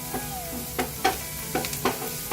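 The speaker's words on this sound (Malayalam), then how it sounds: "സവാള ഒന്ന് നന്നായിട്ട് മൂത്ത് വന്നിട്ടുണ്ട്." Onions frying in a pan as a spatula stirs them for a scrambled paneer dish, with a steady sizzle and several distinct scraping strokes spaced about half a second apart, close and moderately loud with no talking.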